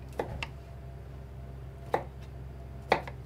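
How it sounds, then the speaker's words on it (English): Knife chopping broccoli on a board: a few sparse, separate thuds spaced about a second apart, close and fairly quiet over low background hum. "chop it up now?"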